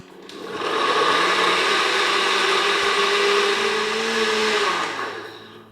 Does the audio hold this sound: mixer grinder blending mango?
yes